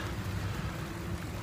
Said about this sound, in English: You can see it started to rain.